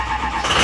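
A truck engine cold start in a shop: a steady mid-range engine drone rises into a louder, higher rev toward the end, with no voices.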